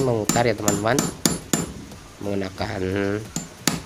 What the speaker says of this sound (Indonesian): kita pukul saja dengan palu seperti ini